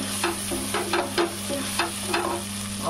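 Masala roasts in a pan for chicken bhuna masala over a medium flame, a constant sizzle broken by about eight regular scraping stirs of a spoon against the pan, close and fairly loud, with no one talking.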